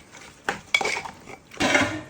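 A utensil stirs a pot of food, giving three metallic clanks and scrapes against the cookware in quick succession, close and clear, with no speech.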